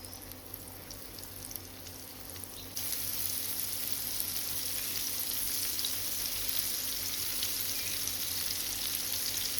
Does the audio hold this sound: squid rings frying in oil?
yes